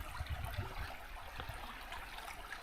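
Faint creek water trickling and gurgling in a quiet summer setting, a soft continuous burble with small bright splashes, heard alone without voices.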